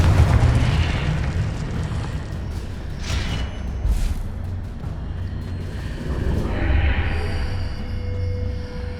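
Confringo fire spell in Hogwarts Legacy exploding with a deep rumbling boom, followed by a couple of sharp bursts and a fading fiery roar.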